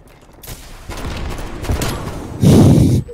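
Rapid bursts of gunfire and a heavy blast from the video game Call of Duty: Black Ops Cold War, loud and layered, building to a final explosive burst.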